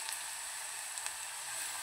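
Grated fresh coconut fries in hot oil for a ragi flakes upma, a steady, close hissing sizzle with a few faint pops, quiet and without talk.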